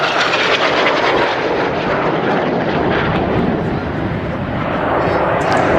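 Red Arrows synchro pair jets flying the carousel manoeuvre in opposing passes at an airshow, a loud sustained jet roar that swells and fades, with a commentator speaking over it.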